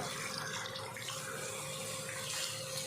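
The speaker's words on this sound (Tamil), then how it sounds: "இப்போ இதில் மட்டன் வேகிறதுக்கு தேவையான அளவுக்கு தண்ணி சேர்த்துடலாம்." Water pours steadily into a pot of fried mutton curry masala, a continuous even gushing splash at close range with no talking.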